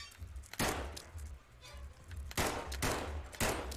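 Gunshots fired at spiders in the Kill It With Fire video game, several sharp shots spaced unevenly over a low background hum, close and moderately loud.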